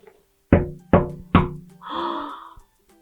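Three loud, evenly spaced knocks on a wooden cottage door, followed by a short breathy sound with no talk.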